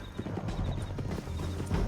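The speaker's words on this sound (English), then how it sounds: "Get him on your horse. Down the canyon. Let's ride." Horse hooves gallop in Red Dead Redemption 2, a steady rapid clip-clop over a rumbling low bed, with a brief whinny and no talk.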